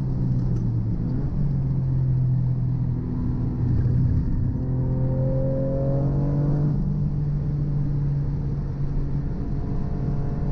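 A modified car is driven hard at a Donington track day. Its engine revs rise and fall through gear changes at moderate distance, a continuous droning rumble with no voices.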